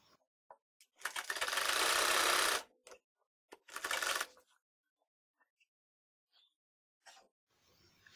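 An electric sewing machine stitches a round umbrella-style frock in two loud, steady runs, one long and one short, separated by quiet handling clicks and pauses.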